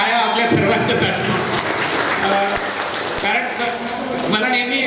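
Crowd at a women's haldi-kumkum community function applauding loudly, a dense, steady roar of clapping with voices mixed in throughout.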